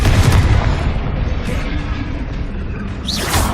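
The Confringo fire-blast spell in the video game Hogwarts Legacy erupts as a heavy, booming explosion that opens loudly, rolls off into a rumbling tail, and is followed by a sharper burst near the end.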